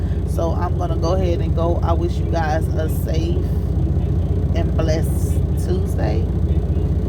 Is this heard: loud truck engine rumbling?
yes